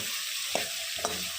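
A continuous sizzle of frying in a pan for an egg fry, with two quick spatula scrapes cutting through the steady hiss.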